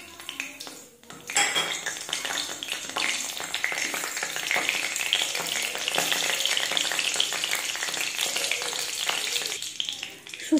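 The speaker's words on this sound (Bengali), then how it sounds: "এবার গোটা জিরাটি দিয়ে দিলাম তেলের মধ্যে, আর দিয়ে দেব শুকনো লঙ্কা আর তেজপাতা।" Whole cumin seeds, dried chillies and bay leaves hit hot oil in a pan, bursting into a loud, steady sizzle after a brief quiet start, with a few light clinks of a utensil against the pan.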